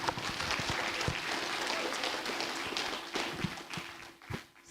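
Applause at a county public school board meeting honoring back-to-back state scholastic winners, a steady wash of clapping from a seated crowd holding through most of the stretch before thinning out at the end.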